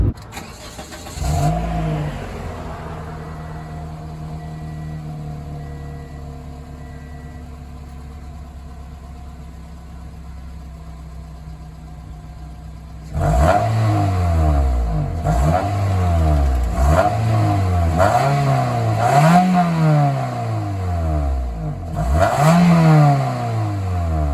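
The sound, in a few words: 2006 Pontiac Vibe exhaust and engine revving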